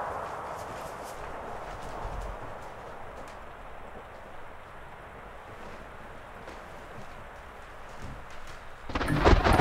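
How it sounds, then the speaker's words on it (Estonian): Steady roar of a thunderstorm with wind and rain washing throughout, a low rumble of thunder underneath, and a louder gusty surge at the very end; no voices. "Kange maru on teel."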